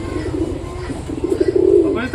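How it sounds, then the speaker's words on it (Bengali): Pet pigeons coo close by in soft, throaty, rolling calls that swell louder toward the end, with a voice faintly present in the background. "তো পায়রাগুলোর কিন্তু এখনো খাওয়া দাওয়া শেষ হয়নি, পায়রাগুলোকে এখনো আমি খেতে দেবো।"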